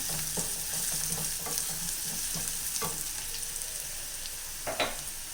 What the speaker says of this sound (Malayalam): ഇതിലേക്ക് നമുക്കൊരു 1/4 സ്പൂൺ മുളക് പൊടി ഇട്ട് കൊടുക്കാം. ഒന്ന് ഇളക്കി കൊടുക്കാം.